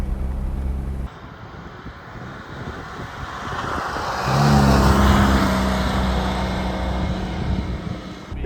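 A classic Fiat 500 small car engine revving in neutral then pulling away and driving, loud and close with a rising surge midway, wind buffeting the microphone and a buzzy drone that stays steady to the end.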